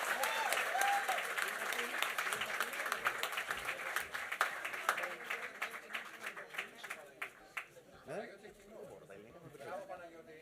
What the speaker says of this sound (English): please join me in a warm applause in honor of today's graduates